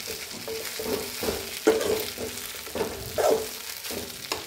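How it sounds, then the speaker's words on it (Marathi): Poha (flattened rice) is fried and stirred in a pan: a continuous sizzle with repeated scraping and tapping strokes of a spoon in an uneven rhythm, close and moderately loud, no talking. "आता ह्याच्यामध्ये पोहे टाकून घेते। व्यवस्थित फ्राय करते ह्याला।"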